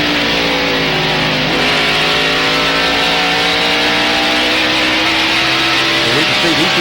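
NASCAR stock cars racing in the 1993 Bud 500, a loud continuous roar of multiple engines with droning, shifting pitches as the pack passes, over crowd noise.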